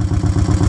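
A motorcycle fitted with a TBR exhaust runs steadily at idle, a near, loud, low throbbing burble with a regular pulsing rhythm and no voices over it.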